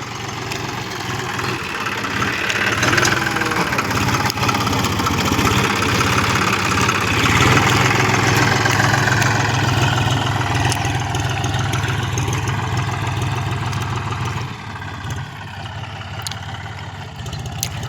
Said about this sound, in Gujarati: દેવસીભાઈ કનારાનું ટ્રેક્ટર વાવવા આવ્યું છે।